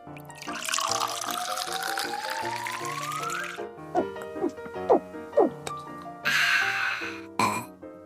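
Water is poured into a glass for a drink, a steady filling stream about three seconds long whose tone rises as the glass fills, over a light musical backing.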